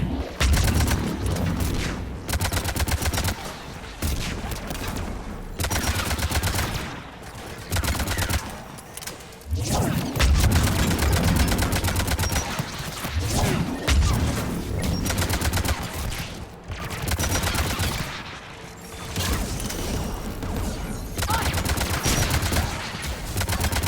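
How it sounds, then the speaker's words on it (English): Anti-aircraft guns in Mass Effect 3 fire in loud, sustained bursts of rapid gunfire with heavy booms, continuous for the whole stretch with brief dips between volleys and no talking. "AA guns ahead."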